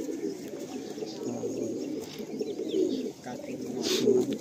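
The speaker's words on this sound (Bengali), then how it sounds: "কিছু গিরিবাজ পায়রা দেখলেন আপনারা, এবারে একটু কিছু ম্যাড্রাস পায়রা দেখুন।" Madras pigeons, male and female birds kept together, coo close by in soft, low, throaty rolls that repeat steadily throughout.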